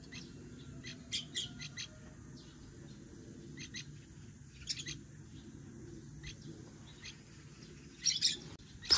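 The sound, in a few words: birds chirping while eating boiled eggs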